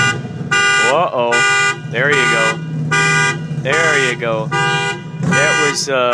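A car alarm, set off by a passing motorcycle, loops through loud repeating electronic tones and warbling sweeps close by, while people talk over it.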